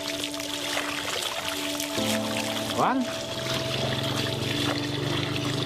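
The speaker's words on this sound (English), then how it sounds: "Yeah, that's a huge amount of water." Water gushes steadily from the outlet of a ram pump being installed in Timor, a continuous rushing flow heard nearby while people talk over it, with a brief whistle-like sound partway through.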